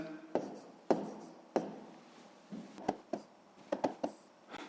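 Pen strokes scratch across paper while numbers are handwritten to work a sixth-grade division problem: a series of short, close scribbles and taps in uneven bursts, with no talk.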